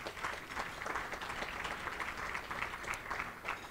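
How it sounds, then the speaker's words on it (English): A round of applause from a gala audience honoring legislators: steady, dense hand clapping at a fairly soft, distant level, continuing evenly for a few seconds without any clear talk over it. "So please, a round of applause for them."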